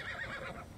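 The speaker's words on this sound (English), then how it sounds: "Oh, there's horses here." A horse whinnies in Immortals: Fenyx Rising, a short faint wavering neigh under a soft game backdrop.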